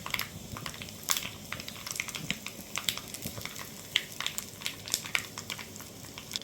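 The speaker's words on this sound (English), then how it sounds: "The ghee is now hot. Add mustard seeds. As they're spluttering" Mustard seeds splutter in hot ghee, a dense run of sharp irregular pops and crackles over a soft sizzle, close and fairly quiet, with no talking.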